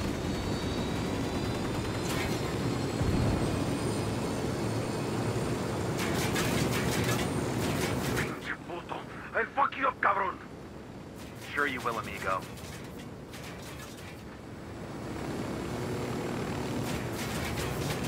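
Helicopter in the video game Ghost Recon Wildlands droning overhead with a loud engine and rotor rumble, interrupted by bursts of gunfire and game voices before the whine returns.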